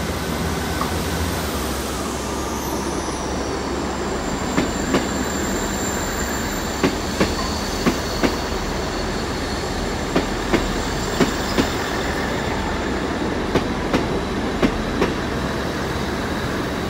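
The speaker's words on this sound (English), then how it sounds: "this South Western Railway service is going to be going now to London Waterloo" A South Western Railway service pulls out of Exeter St Davids bound for London Waterloo, rumbling loudly and steadily close by. Its wheels give a regular clickety-clack over the rail joints, with a faint squeal now and then.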